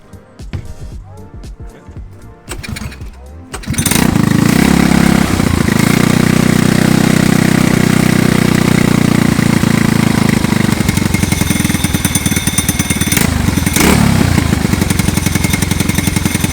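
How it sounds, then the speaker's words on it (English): A go-kart engine, freshly serviced, fires up after a few seconds of quieter handling noise, then runs steadily and loudly at a buzzing idle with brief revving bursts near the end. "First time firing it up now after the big service."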